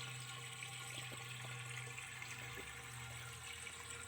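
Water drains steadily from a catfish tank drainage setup, a continuous close rushing and trickling with no talking.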